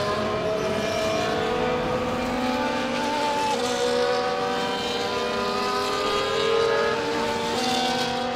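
Formula 1 cars idling and revving on the Monaco grid in F1 24, a dense, steady drone of several engines with rising and falling harmonic whines throughout, no voices.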